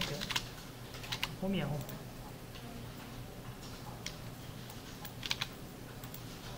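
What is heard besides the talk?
typing on a computer keyboard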